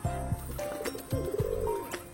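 Pigeons coo on a rooftop in a few soft, throaty rounds close by, each call a low rolling burble with short pauses between, calm and without talk.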